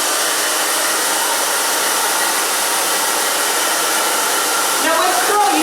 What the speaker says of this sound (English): now we're going to blow dry.